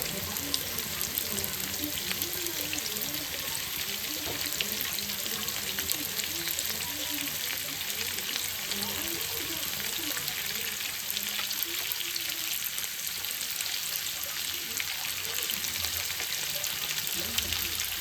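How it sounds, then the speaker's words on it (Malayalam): Chicken with sliced onions fries in a pan, giving a steady, loud, broadband sizzle with soft crackles throughout and no pauses. "ചിക്കൻ നന്നായിട്ട് ഫ്രൈ ആയി വരുമ്പോഴത്തേക്ക് ഈ ഉള്ളി നന്നായിട്ടൊന്ന് വാടിച്ചിട്ട്"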